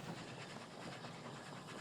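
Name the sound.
train running on rails in the video game Oddsparks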